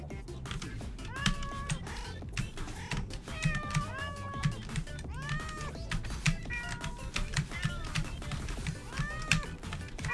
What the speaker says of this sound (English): Cat sounds are awesome, I agree.